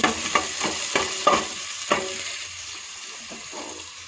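Onions frying in oil and ghee, with a steady sizzle and a run of quick stirring scrapes and clinks that thin out after two seconds while the hiss carries on.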